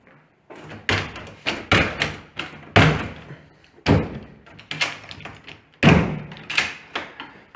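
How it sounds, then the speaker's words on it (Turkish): A door in a rented room in Bratislava bangs shut repeatedly, a series of loud, close thuds and slams coming in irregular bursts with short quiet gaps between them. "kapı da böyle kapanıyormuş."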